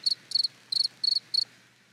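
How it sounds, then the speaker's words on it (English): Five crisp bursts of cricket chirping, each a quick trill, spaced in a steady rhythm and heard close and clear with no talk. "crickets."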